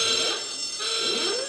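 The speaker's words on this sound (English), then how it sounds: "I can't believe I got a buzzer again" A harsh electronic buzzer from the quiz show QI blares in two pulses, loud and grating, with a synthetic tone and no voices.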